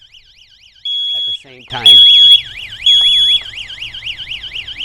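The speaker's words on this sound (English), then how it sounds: "There is our smoke alarm going off and our other YOLINK alarm" A YoLink smoke alarm beeps piercingly in bursts while a YoLink electronic siren wails in a fast rising-and-falling pattern, both loud and close, with a brief spoken phrase.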